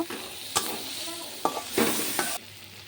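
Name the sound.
fried fish and potatoes being stir-fried in a pan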